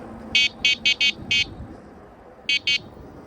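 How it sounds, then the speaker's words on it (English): The electric horn of a Kingbull Hunter eBike gives five quick, loud, buzzy beeps in a cluster, then two more after a short pause, over faint outdoor background noise. "let's just honk the horn just for fun"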